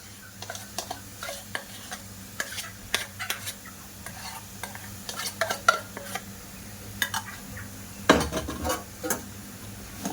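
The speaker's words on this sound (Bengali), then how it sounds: "এবার এই জলের সঙ্গে ভালো করে মিশিয়ে নেব" A spoon scrapes and clinks against a pot while stirring mango kasundi into boiling water, in a steady irregular rhythm, with faint bubbling underneath and a louder knock near the end.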